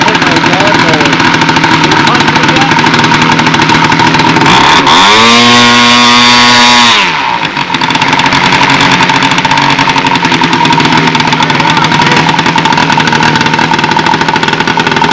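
A small model airplane engine at a model aircraft nationals event runs loudly and continuously with a buzzing, raspy tone; partway through it revs up sharply then drops back to a steady drone.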